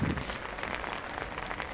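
Steady rain patters on surfaces nearby, a dense even hiss of drops with a few louder taps.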